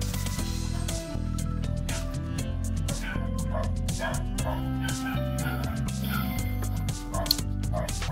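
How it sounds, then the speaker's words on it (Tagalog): Dogs barking in a Philippine barangay neighbourhood, repeated close, loud yips and barks in irregular bursts over a steady background hum, continuing throughout. "I-cut muna natin hanggat gigil pa yung aso sa pagtahol."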